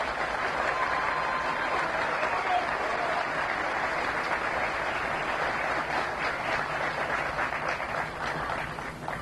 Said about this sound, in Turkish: tüm personelimizi bir alkışlamanızı rica ediyorum